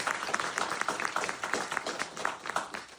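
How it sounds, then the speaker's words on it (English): An audience at a traditional Chinese martial arts event applauds Doug, Debbie and their team, a moderately quiet wash of clapping that swells and fades in uneven pulses over a few seconds. "please give Doug and Debbie and their team applause"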